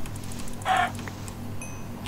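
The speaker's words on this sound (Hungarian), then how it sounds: "Itt egy csirke." A chicken in the Minecraft video game gives a single short cluck over a quiet background hum, followed later by a faint high tone.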